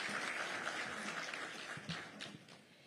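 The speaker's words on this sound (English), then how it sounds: "Another round of applause for Mr." Conference audience applauding a speaker at an occupational safety and health gathering, a dense, steady wash of many hands clapping that slowly thins and tapers toward the end, heard from within the hall.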